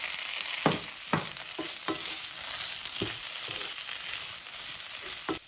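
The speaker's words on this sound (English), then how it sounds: "Stir the potatoes into the onions." Diced potatoes stirred into golden-browned yellow onion in a skillet over medium-high heat, a steady sizzle with several sharp scraping strokes spaced through it, close and alone with no voices.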